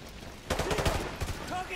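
Gunfire and explosions in Call of Duty Modern Warfare 2 Remastered, a burst of mid-distance shots and booms over a low rumble, with game voices faintly in the mix.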